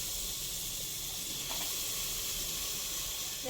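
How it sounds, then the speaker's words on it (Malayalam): Tomatoes sizzle and steam in a pan while a biryani is cooked in a pressure cooker, a steady close hiss that stays even throughout, with no voices. "തക്കാളി വാടി നല്ല സെറ്റായിട്ടുണ്ട്, പുക അടിക്കുന്നു. അപ്പോൾ അതിൻ്റെ ആവി പറയുന്നതാണ്."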